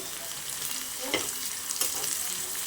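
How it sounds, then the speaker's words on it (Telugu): Onions sizzle in hot oil for a chicken curry tempering, a constant close frying hiss with a couple of brief stirring scrapes partway through, no talking. "కొద్దిగా కలర్ చేంజ్ అయ్యేంత వరకు వేయించుకోవాలి ఆనియన్స్"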